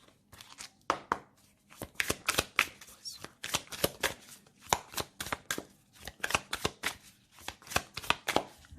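Tarot cards handled during a deck cut, giving a dense run of crisp, rapid slaps and riffles that comes in quick bursts at close range, with no voice over it.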